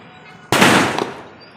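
A single firecracker goes off at a Diwali celebration, a loud sudden bang that decays into a crackling hiss over about half a second, with quieter background noise before and after.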